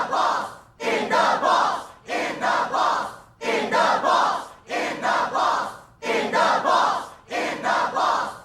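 A movie audience cheers and chants in loud rhythmic bursts, roughly one shout per second with short pauses between, the crowd voices filling the scene.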